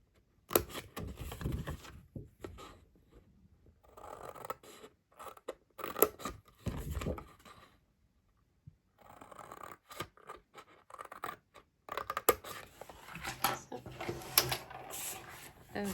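Scissors cut paper along a score line in short, close bursts of snipping and scraping, broken by brief pauses and a longer silent gap, all fairly quiet.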